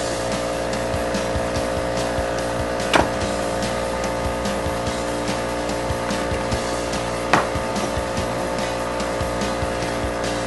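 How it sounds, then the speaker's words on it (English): An air compressor runs in a home workshop, a steady loud mechanical drone with a constant hum that fills the whole stretch, broken by a couple of sharp clicks. "Sorry about the air compressor going off, like always around here"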